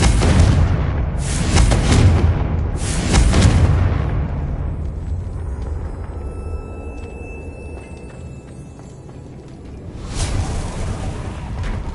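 Confringo fire spell explosions in the video game Hogwarts Legacy: two loud booming blasts close together near the start, a rumbling tail that fades, then a third burst near the end.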